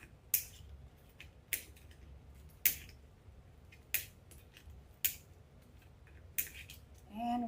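Scissors snip through ribbons while trimming a layered ribbon flower peacock wreath on a large board, six sharp, evenly spaced cuts close by in a quiet room, with a soft rustle at the end.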